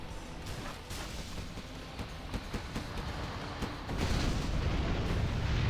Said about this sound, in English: There's a nuke cannon coming in.